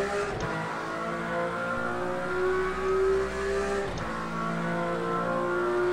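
Race car engine in Project Cars 2 holding a steady, loud drone while driving, with pitch shifting through gear changes and two brief dips around shifts; no talking.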